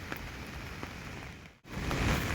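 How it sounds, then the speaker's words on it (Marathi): Steady rain falling in a rural farming area near hills and trees, a continuous close patter on surfaces with a few sharper drop hits and a brief dip before the downpour swells louder again. "पाऊस चालू आहे मित्रांनो इकडं"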